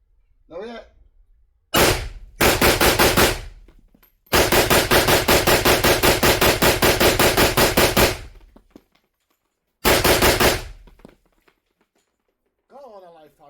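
A 5.45 rifle fitted with a Midwest Industries blast deflector fires a single shot, a short burst, then a long rapid string of shots and one more burst, all loud and close, with brief talk at the start and end.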